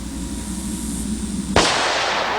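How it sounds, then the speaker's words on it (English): A single sharp handgun shot at an outdoor shooting range cracks out loud and close about halfway through, its echo trailing off over steady background rumble. "And let's shoot one more."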